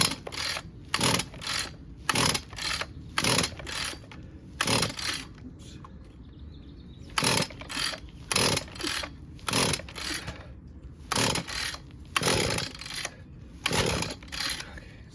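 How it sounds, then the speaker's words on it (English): A weed eater engine cranks repeatedly without starting, heard as a rhythmic series of roughly one-second bursts of sputtering pull-start noise separated by short pauses, loud and close. "See, now it's starting to kick over, but it won't start."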